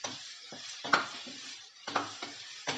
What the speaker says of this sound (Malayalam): ഇങ്ങനെ ഇളക്കിക്കൊണ്ടിരിക്കണം, അല്ലെങ്കിൽ അത് അടിയിൽ പിടിക്കും